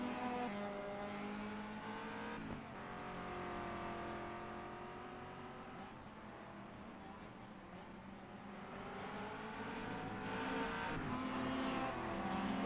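Race cars in a Zandvoort race roar continuously, engines droning and shifting pitch as they accelerate and pass, with steady loud motor noise throughout.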